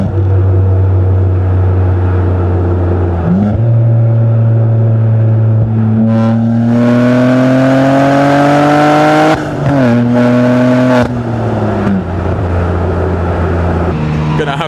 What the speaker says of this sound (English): So I'm gonna do some downshifts and maybe a little pull so you guys can hear that as well.